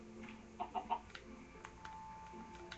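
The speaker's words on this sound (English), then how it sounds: "You're the first chicken I've seen in this world." A Minecraft chicken gives a few soft, quick clucks in a short cluster early on, faint and alone against a quiet game background.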